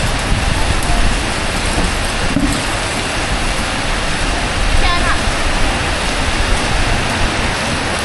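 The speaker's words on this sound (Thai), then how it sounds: "มาเจอกับฝนพอดี" Heavy rain pours down in a steady, loud hiss that fills the whole scene without pause, dense and close with no break in its wash of noise.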